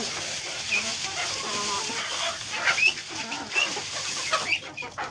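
Ducks and other poultry crowd in to be fed scraps of eggplant and pepper cores, giving a steady mix of clucks and quacking calls at close range, rising in bursts toward the end.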